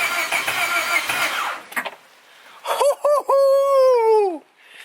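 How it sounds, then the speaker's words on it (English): A fully built turbocharged Honda Civic cranks and catches on its first start: a loud rough burst fading out, then a few quick revs and a steady rising whine that cuts off abruptly. "We got the fucking car to start"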